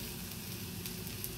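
Steady hot-oil sizzle of spices tempering for a Jaffna-style shrimp curry, a continuous crackling hiss with no voices, close and even throughout.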